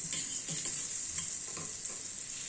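Shrimp with garlic being stirred in melted butter in a pan, a quick light sizzle with soft scraping strokes at a steady pace over a bright continuous hiss, close and moderately quiet.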